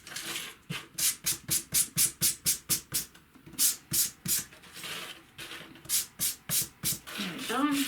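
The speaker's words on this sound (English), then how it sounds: "I'm going to take my sanding block" A sanding block is rubbed over wood in quick, even back-and-forth strokes, about a dozen rasping passes with a short pause partway through, heard close up during a craft project.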